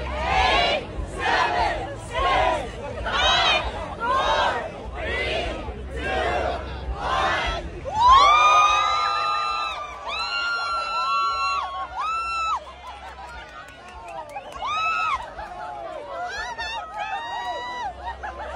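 A live crowd watching a woman's bar-hang strength feat erupts in loud, rhythmic cheering and shouting, then breaks into high excited whoops and cries that carry on through the clip.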